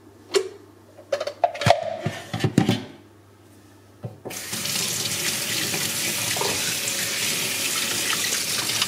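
Parts of a BioChef Atlas slow juicer are handled with clinks and knocks, then a tap runs and water pours steadily over them in a sink, close and continuous.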